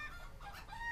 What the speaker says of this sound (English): Fluttershy, your chickens are on loose